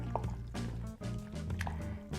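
Thick boxed pizza-flavored macaroni and cheese being stirred in a pot on the stove, giving wet, squishy, sticky sloshing and dripping sounds that continue close up without talk.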